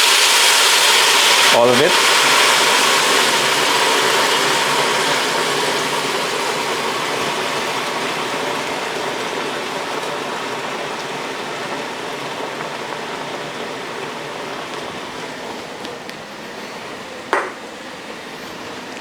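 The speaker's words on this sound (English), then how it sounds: "it's time to open up that Guinness. And add it to the meat." Guinness dark beer opened and poured over beef in a stew pot: a sharp metallic pop, then a steady foamy rush of liquid that slowly fades, with a brief spoken remark during the pour.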